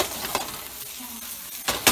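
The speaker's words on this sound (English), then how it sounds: "Cooking this beautiful fish this morning for breakfast." Salmon fillet frying in a pan for a breakfast meal, with soft sizzling and a few stirring scrapes, close and fairly quiet, and a louder clatter near the end.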